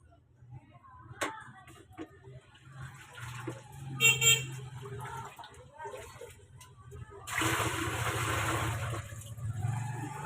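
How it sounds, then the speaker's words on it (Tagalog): Water poured from a container into a laundry basin to stock up for washing clothes, a rushing splash that starts partway through and holds steady to the end, following quieter handling sounds and a brief honk-like tone, with a voice heard earlier. "Pinuhos ko, yung tubig doon, nililipat ko dito sa batsa para makapag-stock."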